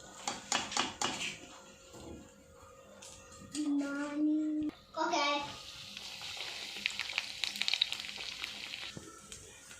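Chicken candy sizzling and frying in a pan, a steady crackling hiss with brief stirring and pan clatter, a short bubbling burst midway, and a faint voice in the background.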